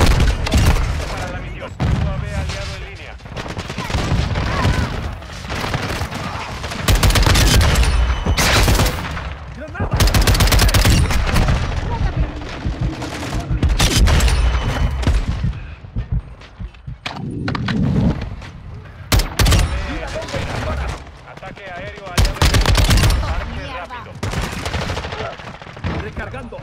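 Bursts of rifle gunfire in Call of Duty: Modern Warfare II, loud and close, firing in repeated volleys with brief gaps, with game voices over the shooting.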